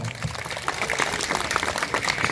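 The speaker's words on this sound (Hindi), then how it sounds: "उनके लिए भी दोबारा से तालियां लगाना" An audience at a government school gathering in Dhaba claps for a donor family, a steady, dense wash of applause from many hands that stays even throughout.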